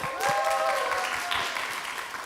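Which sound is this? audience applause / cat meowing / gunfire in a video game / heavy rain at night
audience applause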